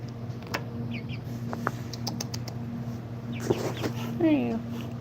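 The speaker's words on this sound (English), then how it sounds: "Look at the chicken." A chicken gives a few short, faint clucks and squawks over a steady electrical hum, with soft clicks and rustles around it and people talking nearby.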